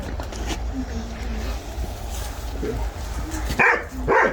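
A Kangal dog barks and yips a few times near the end, amid a steady low rumble, with people talking throughout.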